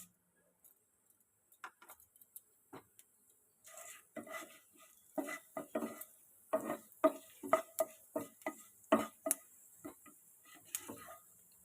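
Tempering spices frying in oil in a kadai, with a quiet start, then irregular crackles, pops and stirring clatter that grow busier and louder toward the end.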